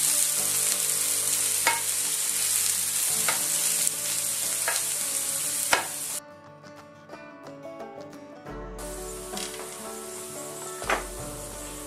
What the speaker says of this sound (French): on met la garniture dans la plaque et on la fait suer